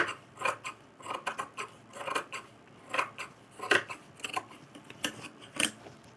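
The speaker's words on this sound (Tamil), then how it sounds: "இப்போது நம்ம அப்படியே இருக்கிற ஷேப்பு கட் பண்ணிக்கலாம்." Fabric being cut into a puff sleeve shape with scissors, a run of crisp repeated snips and blade clicks at an uneven pace, close and clear with no talking.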